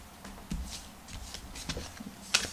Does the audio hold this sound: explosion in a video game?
no